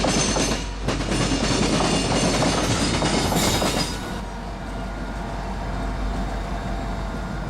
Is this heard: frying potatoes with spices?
no